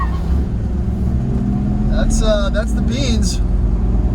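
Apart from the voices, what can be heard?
1995 Ford Bronco Eddie Bauer engine accelerating on highway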